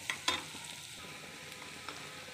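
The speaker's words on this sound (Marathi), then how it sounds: "हे बघा, लसूण मस्त परतलं आहे." Garlic and onion sautéing in a pan, a quiet, steady sizzle with a couple of sharp clinks of a spoon early on and a soft scrape, no voices.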